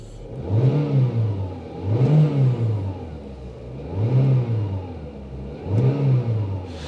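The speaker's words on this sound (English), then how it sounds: "That, I would say, is a fairly healthy sounding engine" A Renault Megane 1.6 VVT petrol engine running just after starting, revving up and down in four even, repeated swells over steady idle, close and fairly loud with no talking.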